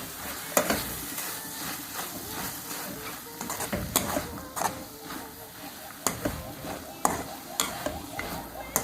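Chicken fried rice mixture stirred in a hot pan, with soft continuous sizzling broken by sharp scraping clicks of the utensil against the pan at irregular intervals, close and fairly quiet.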